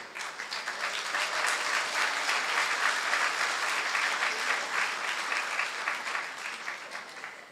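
An audience at an evening event in Jamaica breaks into sustained applause, a dense, even wash of many hands clapping that swells slightly and tapers near the end, with no talking over it.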